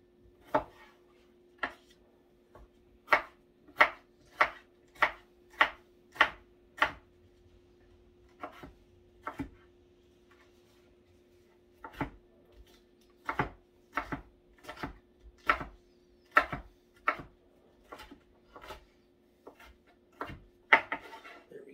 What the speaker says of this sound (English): while we're finishing up chopping these peppers